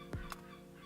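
Birds calling in two brief bursts, one low and one higher-pitched, probably turkeys gobbling, over a steady background hum with no talking.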